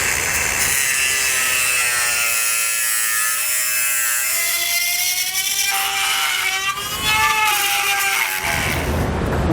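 A power tool with a cutting bit whines as it cuts away part of the rear bumper on a 2012 Chevrolet Traverse, a steady, loud buzzing with shifting pitch that stops abruptly near the end.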